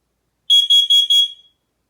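Four rapid piercing beeps from a smoke alarm being tested, loud and close with nothing else heard, the last tone trailing off briefly.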